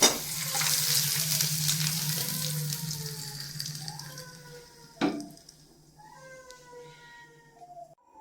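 Buttermilk goes into browned onions in a hot pan, setting off a loud sizzle that fades as the mixture is stirred, while a cat meows repeatedly nearby in drawn-out cries.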